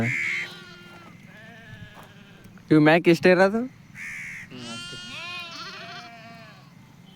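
Sheep in a farm field give a loud burst of wavering bleats partway through, with people talking over the whole stretch and other animal calls faintly in the background.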